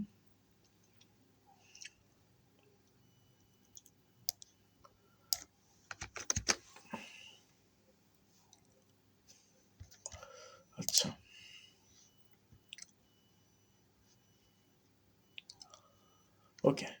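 Sparse computer keyboard typing and clicking while a search for a logo design contest is entered: scattered soft taps with a few sharper bursts of keystrokes close by.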